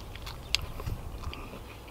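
Someone bites into a crunchy homemade tailgate pizza baked in a portable oven, giving a sharp crunch followed by a few soft chewing sounds, close to the mic.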